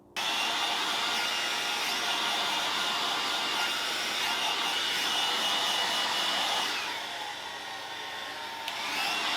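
A hair dryer blowing steadily and loudly up close, drying paint on a small wooden bird house, its airflow pitch shifting slightly near the end as it moves.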